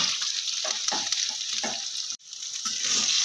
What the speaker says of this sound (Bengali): বেশ লাল লাল করে বেগুনগুলো ভেজে নেব